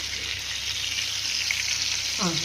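Fish fries in hot oil with curry leaves, a loud steady sizzle and crackle filling the whole stretch, close and constant, with a brief voice appearing at the very end.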